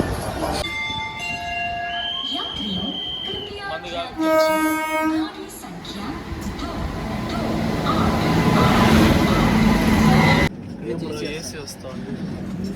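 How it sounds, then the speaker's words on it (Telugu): A train rumbles into a station with a long, loud horn blast partway through, a bell ringing, and people talking over the rolling noise. "ఫైనలీ 10:40కి అయితే ట్రైన్ వచ్చింది."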